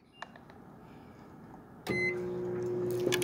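A microwave oven with a bar of soap inside starts up midway, its steady low hum and whir running continuously to the end, loud and close, after a brief quiet beep-like click earlier.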